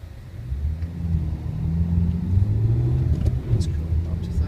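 A car engine pulls up through second gear toward 30 mph on a test track, a steady mid-low rumble with rising pitch as it accelerates, and people talk faintly over it.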